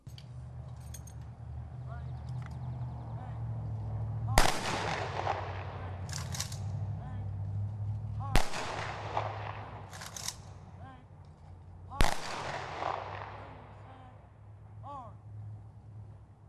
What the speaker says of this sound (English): The ceremony was topped off with a 21-gun salute.